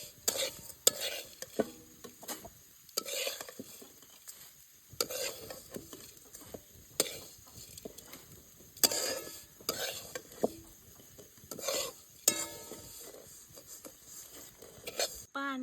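Vermicelli roasting in ghee in a pan, stirred in repeated scraping strokes with a soft sizzle underneath, close and fairly loud, with brief pauses between bursts.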